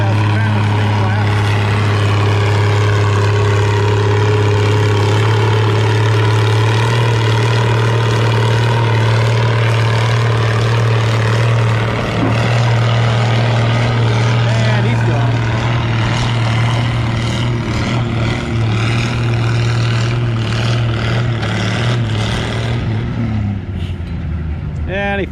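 Oliver 770 tractor drags a 4,000-pound sled at a spring tractor pull in Lynden, its engine a loud, steady low drone held for the whole run before easing off near the end, with an announcer talking over it.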